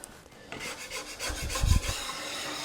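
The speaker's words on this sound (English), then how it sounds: "when you go to do your second pass, you're not smearing more paint on the piece that you just scraped" A scraper rasps paint off a wooden piece in repeated strokes, building to a few heavier, closer scrapes near the end, with no talking.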